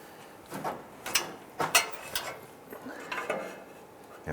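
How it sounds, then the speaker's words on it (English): A 22mm wrench loosens the downstream O2 sensor on a 2008-2013 Nissan Rogue, giving a series of faint metallic clicks and ratcheting clanks in an uneven rhythm, close by and without speech. "You can go ahead and use a 22mm wrench."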